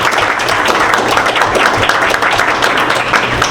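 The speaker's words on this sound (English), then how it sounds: "we want to definitely give them a round of applause" Council meeting crowd giving a round of applause for the finance team, dense steady clapping from many hands filling the room, close and fairly loud for a few seconds.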